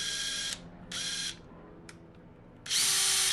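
An impact driver running on its lowest speed setting gives three short, loud, high-pitched whirring bursts, with a brief click in the pauses between them.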